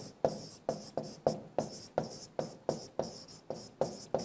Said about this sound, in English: The next question is, I'll erase this.